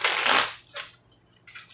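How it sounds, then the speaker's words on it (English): A deck of tarot cards is shuffled nearby in three short riffling bursts, the first longest and loudest, with quiet pauses between. "I just like to get a bunch of shuffling in."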